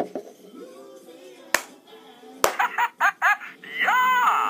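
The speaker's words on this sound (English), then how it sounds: "I'm going to clap my hands." A person claps their hands a few times, with two sharp single claps followed by a quicker run of claps and a burst of noisy sound near the end.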